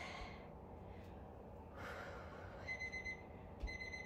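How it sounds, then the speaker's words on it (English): A one-minute workout interval timer goes off with a short run of faint, high electronic beeps near the end of a quiet low-impact exercise session, with soft breathing underneath. "Oh, and there's our minute timer."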